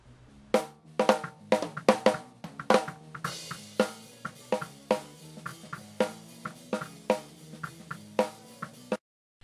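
A drum track with an ungated snare drum, sharp hits in a steady rhythm, each tail ringing into a wash of cymbal bleed before stopping abruptly.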